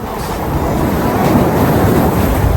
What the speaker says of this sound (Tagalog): Ang lakas ng alon, di ba?